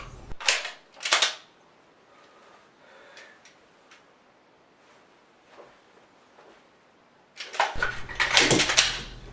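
Pistol dry fire with snap caps in the magazine: a few crisp mechanical clicks and clacks spaced apart, then a louder flurry of handling and racking noises near the end, close and dry with faint breathing.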